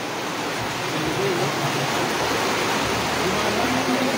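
Floodwater rushes in a steady, loud broadband roar, continuous and close throughout, with no clear voices over it.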